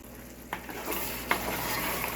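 A pot of Caribbean curry goat cooking and being stirred: a steady close simmering sizzle with a couple of soft knocks of a spoon against the pot, no voices.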